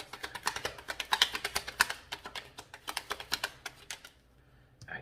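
A deck of tarot cards is gathered and shuffled close by, producing rapid, rhythmic tapping and riffling clicks that run for several seconds before stopping.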